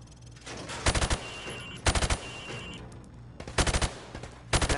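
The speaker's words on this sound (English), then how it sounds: "Now, shoot at the targets while firing from the hip." Rifle fire from the hip at training targets in a Modern Warfare video game, heard as several rapid bursts of automatic gunshots separated by short pauses, loud and close with no voices.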